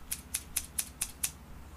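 Scissors snip six times in a steady, even rhythm at close range, with crisp, faint metallic cuts against a quiet room while trimming replacement screen material for a camper.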